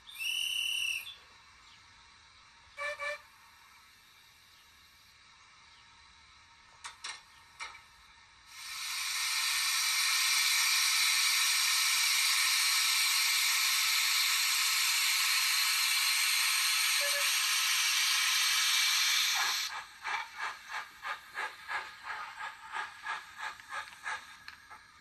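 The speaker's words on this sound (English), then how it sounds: "awaiting the guard's whistle before returning to the main line" A guard's whistle at a small country station on a model railway layout, followed by a long loud burst of steam hiss as the Great Eastern locomotive departs, then rhythmic chuffs fading as it pulls away toward the main line.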